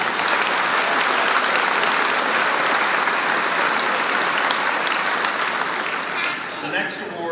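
Dense, continuous clapping from a large audience at a school eighth grade awards ceremony, loud and steady throughout with only a slight dip near the end.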